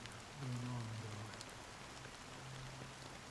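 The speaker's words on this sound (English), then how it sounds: "This rain been on, though?" Rain falls steadily in the Honkai: Star Rail video game, a faint, even patter with a brief low hum near the start.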